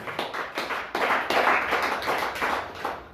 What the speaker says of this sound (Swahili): Let's appreciate God with a clap offering.